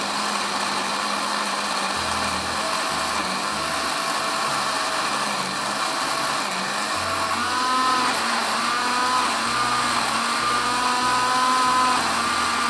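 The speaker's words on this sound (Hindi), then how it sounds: "बिल्कुल बारीक पीसिएगा।" A blender grinds chopped garlic, yogurt, green chillies and salt into a fine green masala, a steady continuous motor whine running throughout with a slight rise in pitch near the end, alone without talk.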